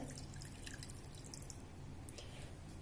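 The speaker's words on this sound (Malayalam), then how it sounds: "ഒരു 1/2 കപ്പ് വെള്ളം കൂടിയും ചേർത്ത് കൊടുക്കുന്നുണ്ട്" Half a cup of water poured onto tuna fish in a pan for cutlets makes a continuous close trickling and splashing, with faint drips over a steady wash.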